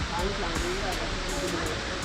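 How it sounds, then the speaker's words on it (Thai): A waterfall on an off-road route through hill country pours as a steady, close rush of broad water noise, constant from start to finish, with a voice speaking over it. "นี่ก็จะเป็นน้ำตก"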